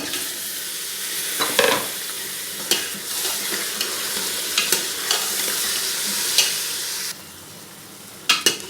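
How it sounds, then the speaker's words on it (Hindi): Chicken frying in a pan with onions and large cardamom, a steady close sizzle with occasional stirring clatter and scrapes throughout, no talking. "प्याज़ों के साथ इन्हें 3-4 मिनट फ्राई करने के बाद जाएगी इसमें चिकन।"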